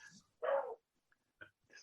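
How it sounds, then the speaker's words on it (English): Dogs barking indoors with one loud, fairly long bark, then a few shorter yips and whimpers and brief quiet gaps, all close by with no talking over them. "Ignore my dogs."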